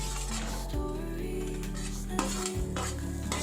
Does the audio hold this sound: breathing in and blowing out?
no